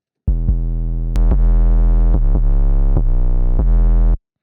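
A loud, buzzy synth bass beat in a 6ix9ine-style trap beat made in FL Studio, with a gritty, saturated tone, hitting in a steady rhythm of repeated notes before cutting off abruptly.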